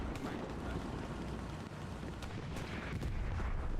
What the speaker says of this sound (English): They got one into the side there, the rocket.